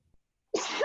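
A single short, sharp sneeze or cough bursts out close by in a quiet room after near silence, abrupt and breathy.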